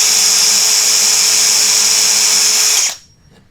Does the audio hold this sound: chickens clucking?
no